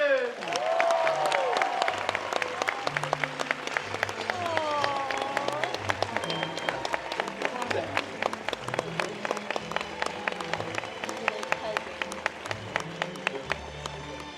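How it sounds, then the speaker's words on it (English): A D23 panel crowd breaks into rowdy applause as the Sherman cousins are welcomed, dense sustained clapping with sharp individual claps, scattered cheers and music beneath, lasting well over ten seconds. "that was a little rowdy applause"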